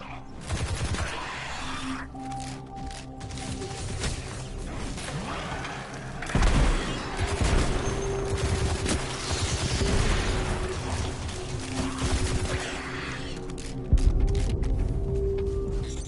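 Rocket launcher blasts and bursts of gunfire in the sci-fi shooter Destiny 2 during a boss fight, with sustained loud explosions and crashes over a constant game soundtrack.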